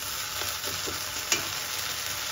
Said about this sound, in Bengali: এখন আদা রসুনটা আমি কিছু সময় একটু কষিয়ে নিব